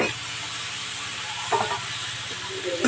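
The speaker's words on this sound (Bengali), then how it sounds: "এবার কিছুক্ষণ ভেজে নেব এইভাবে" Steady oil sizzle as boiled, pressed arum stalks fry in a pan, a soft continuous hiss with a few faint stirring scrapes and knocks, close and moderately quiet.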